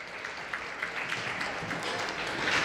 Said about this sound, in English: Crowd responds to that one.